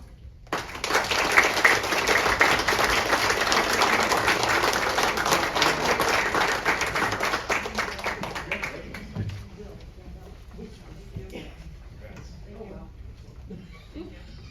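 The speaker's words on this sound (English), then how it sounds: "Let's have a little more applause for the guys in the hallway." Sustained applause from a crowd at a City of Litchfield, Illinois public meeting, steady and moderately loud for several seconds before fading into quieter room noise and a voice.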